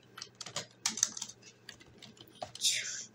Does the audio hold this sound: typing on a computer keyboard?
yes